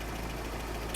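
A Triumph Sprint ST 1050 engine idles with one slightly noisy tappet, a steady low mechanical hum with a faint ticking texture, heard up close and alone.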